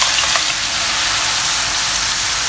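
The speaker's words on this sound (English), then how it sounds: "Once the oil has heated up, put in the shallot and garlic paste, just pouring everything in. Don't you love the sound of the sizzle?" Shallot and garlic paste hits hot oil in a pan, producing a loud, dense, continuous sizzle that stays even throughout, with no talking.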